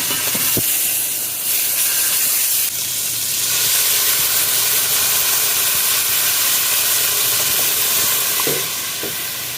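Beef steak sears in a pan for Jamaican beef patties, a steady loud hiss and sizzle running throughout with a few faint clicks and knocks.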